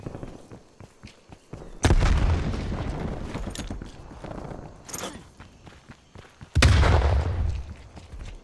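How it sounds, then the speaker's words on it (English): A grenade blast in Call of Duty: Cold War, two heavy booming bursts a few seconds apart, each with a long rumbling decay, amid quieter footsteps and shuffling. "Throw a grenade."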